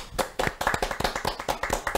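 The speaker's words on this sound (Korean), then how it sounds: "오늘은 박수를 쳤네" A small group in a news broadcast studio claps at the opening of a talk show, producing a quick, steady run of close, crisp hand claps for about two seconds.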